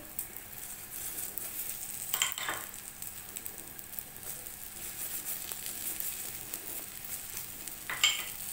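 Cheese khoobs frying in ghee in a pan, a steady soft sizzle running throughout with a couple of brief utensil scrapes or clinks, close and fairly quiet, with no speech.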